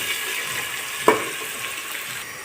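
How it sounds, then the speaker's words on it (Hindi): Onions fry in hot ghee with a soft, steady sizzle and one brief stirring clatter partway through, faint and close. "अब प्याज़ों को थोड़ी देर प्याज़ों को फ्राई करूँगी।"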